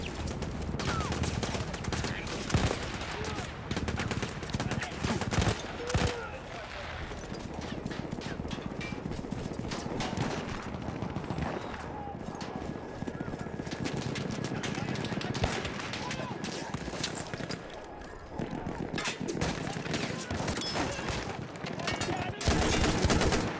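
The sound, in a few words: gunfire from a gun in the Battlefield 1 video game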